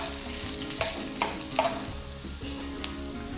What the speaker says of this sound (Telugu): కరివేపాకు, 1 స్పూన్ అల్లం ముక్కలు, 5 వెల్లుల్లి వేసి కొంచెం ఫ్రై చేద్దాం